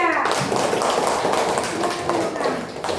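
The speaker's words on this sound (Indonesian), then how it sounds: "Kasih aplaus dulu untuk kelompok 3." Applause for a student group in an Indonesian classroom, a dense patter of many hands clapping steadily at close range, filling the room from start to finish.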